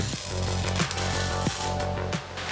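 Welding on BMW E46 body panels in a workshop, a continuous buzzing, crackling hum with a few sharp ticks, close and steady throughout.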